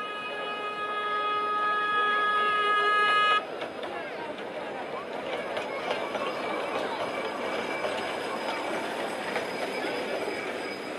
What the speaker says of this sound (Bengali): দেখুন ট্রেন আসছে।